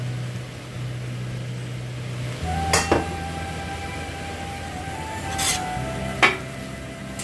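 Onion tipped into a pan and stir-fried for Sri Lankan chicken koththu, with a steady low sizzle and a few sharp scrapes of a spoon against the pan, close by and with no talking.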